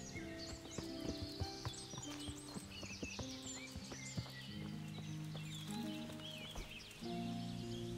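A horse clip-clopping along in Kingdom Come Deliverance, a steady rhythmic patter of hooves at moderate distance, faint overall, with birdsong and occasional game sounds in the background and no talking.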